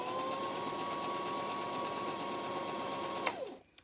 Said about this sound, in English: I'm gonna press down this and do a couple of stitches backwards in order to make sure that my stitches are gonna stay in place.